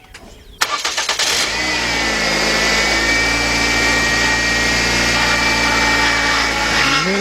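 A Ford Focus or Transit Connect engine cranks briefly and catches, then settles into a steady idle with a faint whine from a newly fitted power steering pump being bled; close and continuous, no talking.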